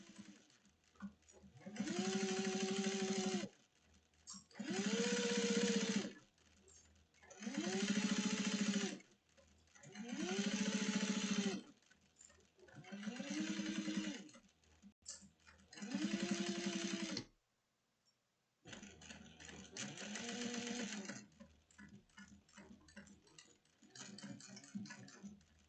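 A sewing machine stitches a seam on a bucket-style drawstring bag in a run of about seven steady bursts, each a couple of seconds long with short pauses between them. It sounds close and fairly loud, with no talking over it.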